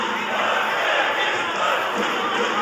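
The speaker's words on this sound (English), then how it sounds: "He's receiving magnificent support from this crowd here at the Humo Arena." A large arena crowd roars and cheers steadily in support of a boxer at a youth world championship semifinal bout in Humo Arena, Uzbekistan, a loud, unbroken wash of voices.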